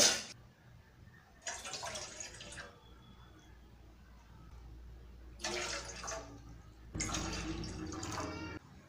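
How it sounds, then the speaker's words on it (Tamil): Water is poured into a cup in four separate bursts of splashing, each lasting a second or two, with quiet pauses between them. "நான் வந்து இந்த கப்பில் வந்து ஒரு நாலு கப் அளவுக்கு தண்ணி சேர்த்துக்கிறேங்க"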